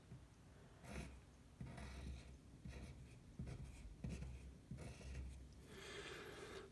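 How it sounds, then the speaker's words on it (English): Pen drawing a magnetic field diagram on paper, soft rhythmic scratching strokes in repeated bursts, close and quiet with no voices. "So I'm going to draw that in 3D."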